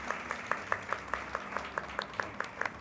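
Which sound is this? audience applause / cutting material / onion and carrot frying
audience applause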